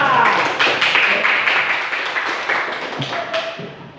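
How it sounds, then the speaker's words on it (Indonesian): Classroom applause for a pupil named Keira, a burst of many hands clapping together, loud and dense at first and then gradually thinning out over a few seconds. "Oke, silakan kembali tepuk tangan dulu untuk Keira."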